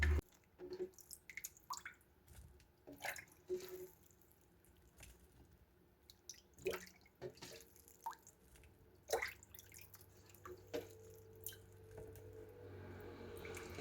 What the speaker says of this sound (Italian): lasciate così sgocciolare ben bene tutta l'acqua